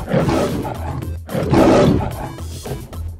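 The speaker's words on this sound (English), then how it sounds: "Have you ever heard a lion's roar?" A lion roars loud and close in two deep, rumbling bursts, each swelling and then fading, followed by a softer trailing growl.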